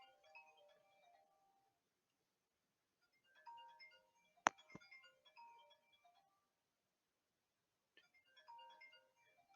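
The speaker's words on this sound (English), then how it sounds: "Oh, that's my phone." A phone ringtone plays a faint melodic chime in three separated bursts, with a sharp click in the middle; the room is otherwise quiet.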